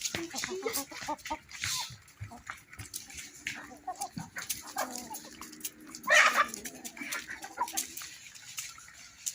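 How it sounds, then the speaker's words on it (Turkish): Chickens cluck and chatter close by while feeding, amid pecking and scuffling, with occasional voices and a dog-like yelp in the mix. "Tavuklar birbirinin üstünden yiyorlar."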